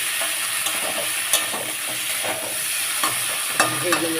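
Boiled okra being lightly fried with well-cooked spiced potatoes in a pan: a continuous close sizzle with scattered scraping and clacking as the mix is stirred.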